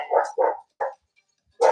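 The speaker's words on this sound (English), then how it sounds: "They always bark. The dogs are here." Dogs bark close by indoors, four sharp barks in a short uneven burst with brief silences between them.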